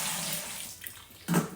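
Liquid from a heated Coopers Mexican Cerveza tin pours into a home-brewing fermenter, a close watery splashing that eases off midway, then surges again in a louder burst near the end, with no talking.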